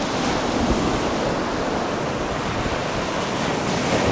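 Gulf surf washes onto the beach at Anna Maria Island, Florida, a loud continuous roar of breaking waves with wind buffeting the microphone.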